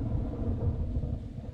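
Storm thunder in the Man of Medan game, a low, steady rolling rumble that swells and recedes without a sharp crack, dull and heavy.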